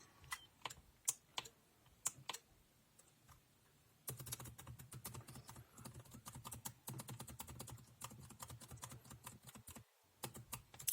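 Laptop keyboard keys are pressed repeatedly, first as sparse separate clicks, then as a quicker run of sharp taps over a faint hum, close and fairly quiet.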